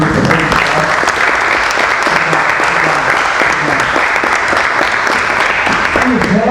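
Loud, sustained applause from an audience at a prayer and worship gathering in the São Paulo legislative assembly, dense clapping that runs unbroken for over six seconds, with voices faintly mixed in.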